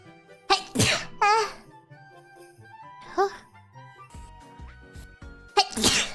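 Several sneezes in quick succession, loud and close, separated by short pauses, with soft voiced sounds and a gasp between them.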